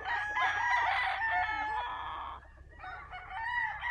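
A Gilmore gamefowl rooster on a breeding farm crows loudly and close by, one drawn-out call followed by clucking and a second shorter crow.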